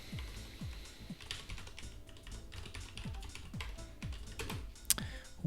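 Quick bursts of keystrokes on a computer keyboard during a coding session, light clicky taps in short irregular runs with brief pauses, close and fairly quiet.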